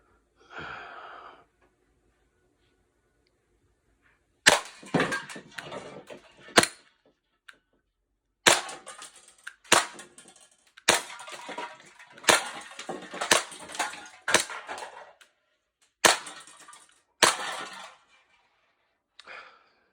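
A Glock 42 airsoft pistol fired at targets on a home-intruder dummy, with a series of sharp, close cracks and clattering impacts in irregular bursts and gaps, and a brief breath or voice near the start.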